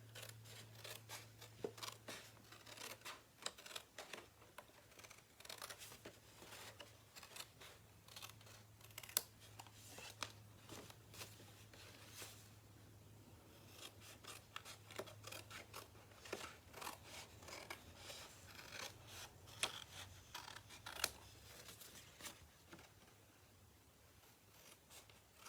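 Paper snips cut through paper for a rose box craft, with quiet, rapid snips repeating steadily over a low background hum.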